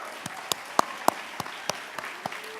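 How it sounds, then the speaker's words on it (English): Sparse, quiet clapping for the 2018 graduates of the Charlotte Housing Authority Scholarship Fund: about nine separate claps spread unevenly over a couple of seconds, with no dense ovation. "I would like to give a warm round of applause to our 2018 graduates of the Charlotte Housing Authority Scholarship Fund"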